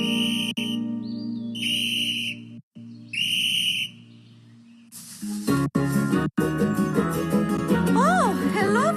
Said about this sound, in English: We heard whistles.